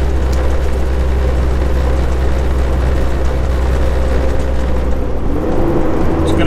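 A truck's heavy engine drones steadily while climbing the Coquihalla Highway, a loud continuous low rumble heard from inside the cab with a slight shift in pitch near the end.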